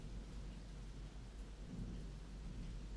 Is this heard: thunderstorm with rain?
yes